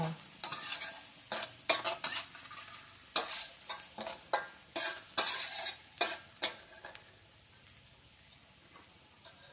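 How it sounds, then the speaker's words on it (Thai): Shallots are stir-fried in oil in a wok for a char siu bun filling, with a run of brisk, close scraping strokes over crackling sizzle that dies down to a softer, steady fry with no speech. "ใส่หอมแดงลงไป เจียวไม่ต้องเหลืองนะคะ"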